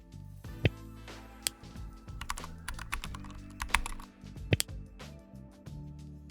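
Rapid clicking of computer keyboard keys as a Shopify store title is entered, with irregular bursts of taps and a few louder individual keystrokes, no talking.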